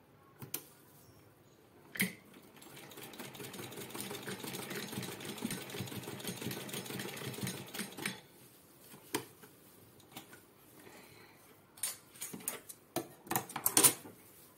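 A sewing machine stitches along a cloth pouch made from old fabric, running in a steady, fairly quiet whir for several seconds, bracketed by sharp clicks and handling taps before and after.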